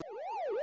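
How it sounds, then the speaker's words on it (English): Pac-Man arcade game siren tone, a faint electronic warble sweeping smoothly up and down in a quick repeating cycle, heard alone. "Except for the police siren sound."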